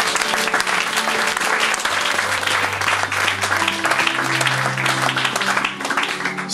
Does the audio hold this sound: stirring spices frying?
no